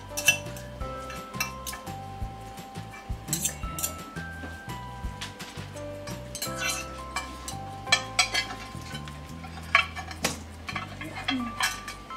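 Cooked pork for tacos is pulled apart with metal utensils in a bowl, giving irregular clinks, scrapes and taps against the dish, close and fairly crisp, without talking.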